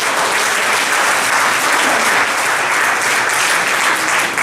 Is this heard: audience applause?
yes